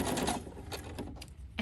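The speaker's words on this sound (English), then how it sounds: "And we'll sew all the way to the end of this one." A sewing machine chain pieces quilt strips with a quick, close mechanical stitching chatter in short bursts.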